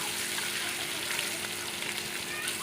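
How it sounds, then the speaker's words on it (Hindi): Garlic and ginger fry in a pan for a street-style dal mash, giving a continuous, even sizzle that stays close and steady throughout with no talking. "ये मैंने लहसुन अदरक फ्राई कर लिया है।"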